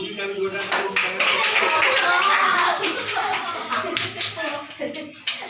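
Audience at a yoga championship claps in welcome for a participant, a dense burst of hand claps fairly close, with an announcer's voice talking over it and faint children's voices in the crowd.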